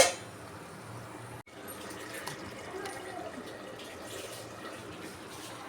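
Cooled boiled milk poured into a pot of bottle gourd curry, a steady close-up liquid pour that runs for several seconds after a brief clink.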